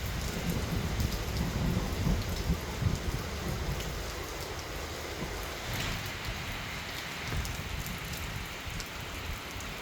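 Steady rain falls with a dense, even hiss and scattered drops, continuing throughout with no voices.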